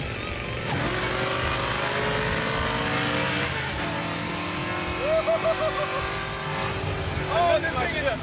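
A loud car engine drones steadily, with a few revving surges near the end and people talking faintly underneath.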